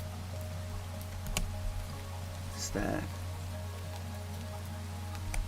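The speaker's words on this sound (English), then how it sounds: "It's actually raining" Steady rain falls in the Minecraft world, a soft continuous hiss that runs the whole way through, with a brief voice speaking partway in.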